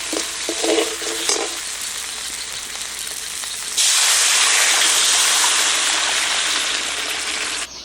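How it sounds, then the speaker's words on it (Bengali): Large fried boal fish pieces are stirred into sizzling spice paste in a village kitchen pan, producing a loud, steady frying hiss with scraping stir noises that surges brighter halfway through and holds until the end. "ভালো করে মশলা কষিয়ে নিয়েছি এবার ভেজে রাখা মাছগুলো দিয়ে দিচ্ছি নেড়ে ছেড়ে নিলাম"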